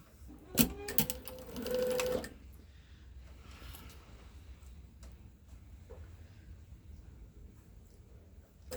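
A sewing machine briefly stitches quilt strips and a block together, giving a fast, loud mechanical whir for about two seconds before stopping, followed by quiet handling noises.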